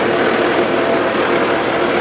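A 1977 Gravely GMT 900 tractor engine running rough with a carburetor fault, a steady close, loud broadband drone with no breaks and no talk.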